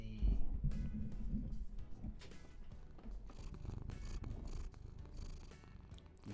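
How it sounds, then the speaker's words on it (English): A house cat named Apple purrs close to the microphone in a soft, continuous rhythmic rumble, mixed with rustling and handling noises. "is purring like crazy"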